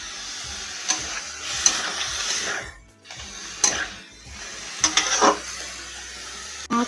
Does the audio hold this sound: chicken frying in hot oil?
yes